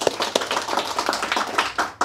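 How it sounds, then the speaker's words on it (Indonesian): A small group claps in response to a call to applaud for Hindu, a quick irregular run of close, sharp claps lasting about two seconds. "Tepuk tangan untuk Hindu."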